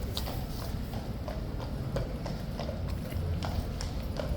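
Horses' hooves clip-clopping on pavement at Horse Guards in London, a steady, close run of sharp hoof strikes over a continuous outdoor crowd murmur.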